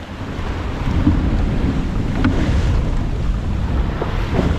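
Wind and building seas buffet a sailboat at sea under a southwest wind, a loud steady rush of wind noise and waves with low rumbling gusts, no one speaking.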